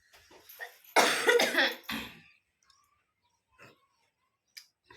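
A person coughs in a close, loud fit of several harsh coughs, preceded by a few smaller throat sounds, then quiet with faint clicks.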